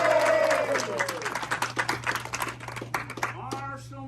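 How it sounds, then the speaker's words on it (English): An outdoor audience at a Tombstone, Arizona gunfight show claps for the marshal, a dense burst of applause that fades after a few seconds while a performer keeps talking over it. "how about a big round of applause for Marshall Baker"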